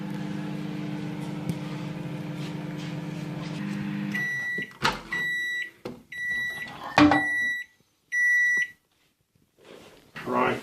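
A microwave oven hums steadily while heating a doner kebab, then falls quiet and gives several bright, evenly spaced beeps with short gaps between them, close by.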